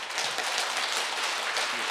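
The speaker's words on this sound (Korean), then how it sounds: "여러분의 격려에 큰 박수 부탁드립니다" Audience applause at an anniversary ceremony for a Buddhist broadcasting station in Busan, a short, even wash of many hands clapping with no break.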